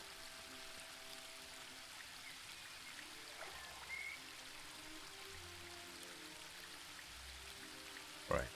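A waterfall in a point-and-click video game gives a faint, steady trickling and splashing wash, with a brief louder knock near the end.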